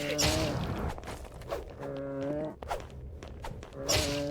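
A cow in the video game Clash Battle moos several times in short, drawn-out calls, fairly close, with some clattering and shuffling noises between the moos.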